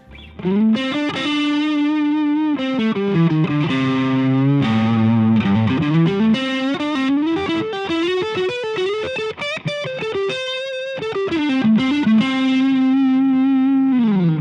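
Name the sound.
Squier Stratocaster electric guitar playing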